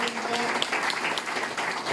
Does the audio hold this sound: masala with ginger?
no